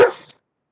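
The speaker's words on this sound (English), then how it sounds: "Sorry, that would be my dog." A single loud, close dog bark that fades into a short tail of room echo, followed by silence in an indoor home setting.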